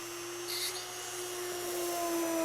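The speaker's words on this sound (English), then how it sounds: "I have my drill bit ready in the Dremel drill" A Dremel rotary tool at a low-medium speed whines at a steady high pitch, its tone shifting slightly as it bores out a small metal eyeglass screw, close by and continuous.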